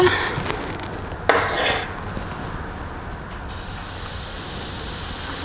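Butter hits a hot pan over medium heat with a brief sharp crackle, then settles into a steady soft sizzle and hiss that continues quietly throughout.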